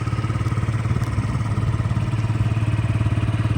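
A Yamaha Jog SA36 fuel-injected scooter engine idles close by, a steady, even putter with a fast regular pulse and light mechanical clatter, alone and unchanging.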